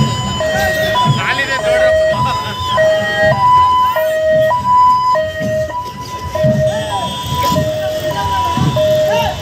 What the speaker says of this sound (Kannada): ಇದೇ ವೇಳೆ ಬಂದಿದ್ದ ಆಂಬ್ಯುಲೆನ್ಸ್ಗೆ ದಾರಿ ಮಾಡಿಕೊಡಲು ಪೊಲೀಸರು ಹರಸಾಹಸ ಪಟ್ಟರು